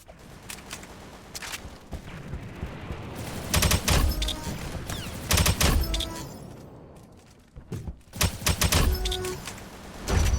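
Bursts of LRPR-1 rifle fire in the Roblox shooter AIMBLOX, several loud close shots in quick clusters over a busy game mix, with a short lull before more rapid firing near the end.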